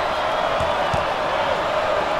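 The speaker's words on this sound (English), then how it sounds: "This crowd is fired up." A basketball arena crowd in NCAA Basketball 10 roars in a dense, continuous wall of cheering, with a few faint bounces and thuds underneath.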